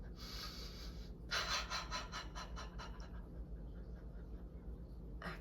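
Deep breaths during embodiment practice: a couple of long breathy inhales and exhales with a faint rhythmic fluttering, over a steady low hum.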